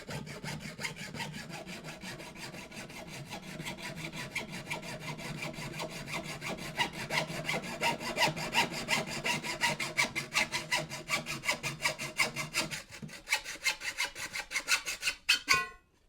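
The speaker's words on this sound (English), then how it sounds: "This is my Boddington's insulated hacksaw I got from the loadout shop" An insulated hacksaw cuts through a workpiece with rapid, regular back-and-forth rasping strokes, close and continuous, quickening toward the end before the blade breaks through and stops.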